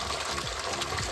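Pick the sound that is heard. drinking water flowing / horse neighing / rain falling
drinking water flowing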